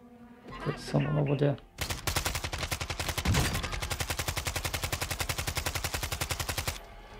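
Rapid automatic gunfire in Call of Duty Warzone during a 2023 Halloween event, a dense steady burst of evenly spaced shots running about five seconds after a brief stretch of talk and game sounds.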